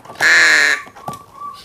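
A crow being hand-fed cat food gives one loud, harsh caw close by, followed by quieter clicks and soft rustling.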